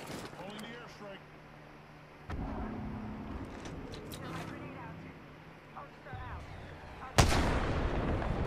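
Video game airstrike explosions boom in heavy, rumbling blasts, with a strong hit partway through and a louder one near the end, over a low background and occasional talk.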